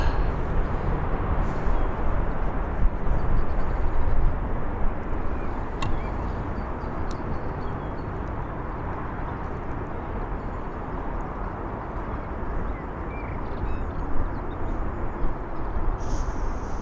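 A Ryanair jet departing Birmingham Airport, a broad, steady engine roar that holds throughout at moderate distance, with no voices.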